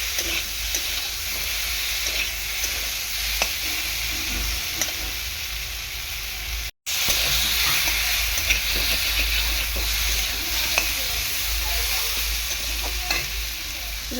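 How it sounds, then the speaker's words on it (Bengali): Potatoes frying with spices in a pan, stirred steadily, giving a constant close sizzle with repeated soft scrapes and clinks of the spoon and one brief cut to silence midway. "আলুগুলো দিয়ে ভালো করে এরকম নাড়াচাড়া করে নেবে"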